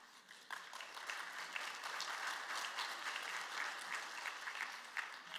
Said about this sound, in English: It's got a clap.